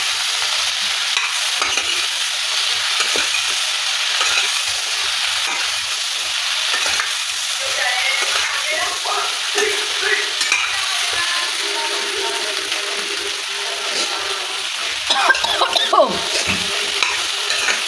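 Okra (bhindi) sizzles steadily in a hot pan, with repeated scraping stirs and light clatter throughout, close and continuous.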